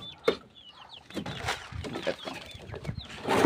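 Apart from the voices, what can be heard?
chicken clucking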